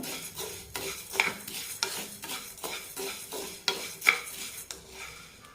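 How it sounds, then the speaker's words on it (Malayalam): Urad dal roasting over high flame in a pan, stirred with a utensil in a steady run of scraping strokes over a light dry sizzle, close and fairly quiet, with occasional clinks against the pan. "ഹൈ ഫ്ലെയിമിലിട്ട് ഒന്നുകൂടി വറുത്തെടുക്കാം"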